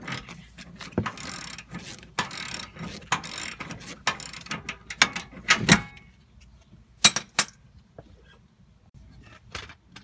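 A ratchet fitted with a deep socket works a control arm bolt on a Hummer H3, giving rapid clicking bursts of pawl ticks with pauses and a few metallic clanks, close and fairly loud.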